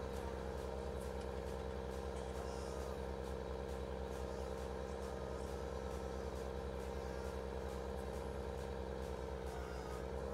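Case tractor engine in the Farming Simulator 19 video game, a steady, faint idling drone with a low rumble that continues without a break.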